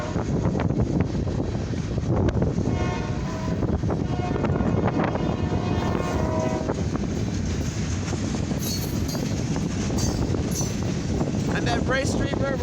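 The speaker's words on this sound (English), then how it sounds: "This is a mixed freight steel train." An eastbound mixed freight and steel train rolls past a railroad crossing at milepost 287, a steady broadband rumble of wagons sustained throughout, with heavy wind buffeting the microphone and occasional high squeals near the end.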